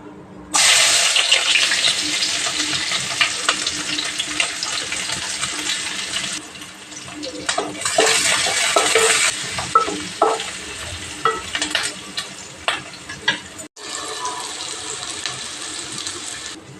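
Cumin, onion, green chilli and curry leaves hitting hot oil in a pan, a loud bright sizzle bursting in at once, then easing into crackling and stirring clatter, close up without speech.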